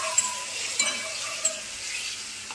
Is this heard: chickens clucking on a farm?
no